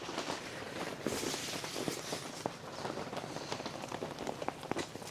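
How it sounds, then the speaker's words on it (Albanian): Steady rain falling outdoors in snowy Valbona, a continuous faint hiss with scattered drop taps and light movement, with no talk. "E na myri shiu."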